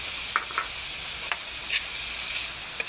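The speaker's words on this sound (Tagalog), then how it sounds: "Medyo haluin lang natin ng para maluto yung itlog." Egg frying with ampalaya (bitter gourd) in a pan, heard as a steady, even sizzle with a few light stirring scrapes scattered across it.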